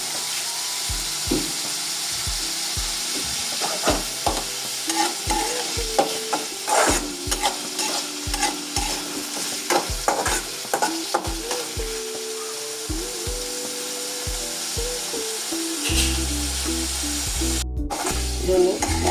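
Masala with a pinch of salt for egg curry is sautéed in a pan: a continuous sizzle under repeated rhythmic scrapes and knocks of a stirring spoon, close up, with no talking.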